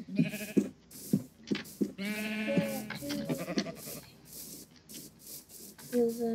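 Sheep in a video game bleat in a string of short, wavering cries, several overlapping, with soft rubbing noises between them.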